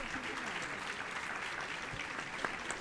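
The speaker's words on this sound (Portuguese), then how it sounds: "Palmas para Marta." Audience applause at a literary talk, welcoming a journalist moderator to the stage: steady, moderately faint clapping sustained throughout, with voices mixed into the background.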